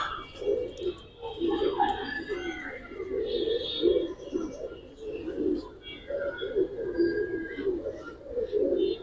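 Giribaz pigeons coo repeatedly at a loft, a steady low warbling chorus running throughout, with people talking nearby over it.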